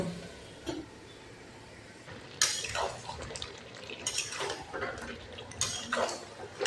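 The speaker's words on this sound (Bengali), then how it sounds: "একটু নাড়াচাড়া করে ঢাকা দিয়ে দিব। ঢাকা দিয়ে কষিয়ে নিব।" A pot of chicken and potatoes with tomato being stirred, then covered: quiet clinks and scrapes of a utensil against the pot with soft wet shuffling, ending in louder metallic knocks as the lid goes on, close and unaccompanied by speech.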